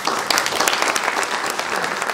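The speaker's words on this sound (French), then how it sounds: "professeur Fabrizio, qu'on l'applaudit encore une fois" Brisk applause from a seminar audience thanking a professor, many hands clapping close and steady for a couple of seconds without speech.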